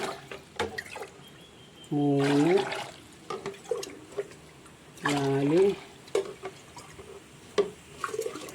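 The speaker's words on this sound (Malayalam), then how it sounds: "നാലര ഗ്ലാസ് വെള്ളം ഒഴിക്കാം" Glasses of water are poured into a cooking pot for ghee rice in two distinct bursts, each with a rising gurgling fill, separated by quiet kitchen clatter while a voice counts aloud.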